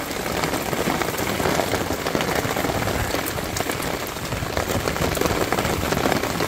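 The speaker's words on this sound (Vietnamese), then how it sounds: "Ôi mưa lớn." Heavy rain pours down in a forest, a dense, steady roar of drops hitting leaves and ground, loud and unbroken throughout.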